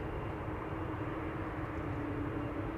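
Embraer jet at Amsterdam Schiphol Airport, giving a steady, continuous engine roar and rumble of even loudness throughout, with no voices.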